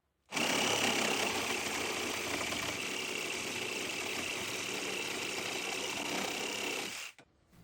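A compact one-hand reciprocating saw runs alone in one continuous steady buzzing burst of about seven seconds, starting and stopping abruptly, fairly close.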